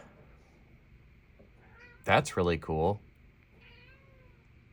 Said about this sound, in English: My cat is apparently feeling neglected.